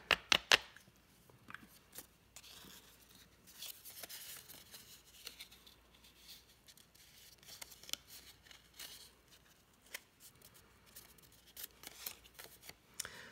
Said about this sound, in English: Now, with each fold, you're going to want to ink that edge.